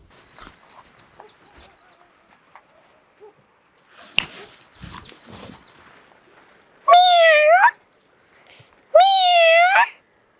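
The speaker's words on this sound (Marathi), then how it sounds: "ते मांजरीचा आवाज कुठून येतोय बघायला लागन" A domestic cat gives two loud, drawn-out meows close by, each about a second long and a second apart, after quiet rustling and a few soft knocks indoors.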